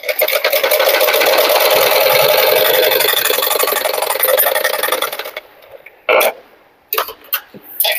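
An electric sewing machine stitches a blouse in a loud, fast, even rattle for about five seconds, then stops, followed by a few brief clicks and knocks; no speech.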